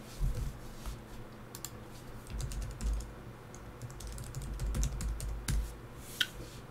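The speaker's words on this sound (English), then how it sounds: "So we're just going to type in a simple phrase" A phrase being typed on a computer keyboard, with a steady run of light, fairly close key clicks and a few louder taps, no voices.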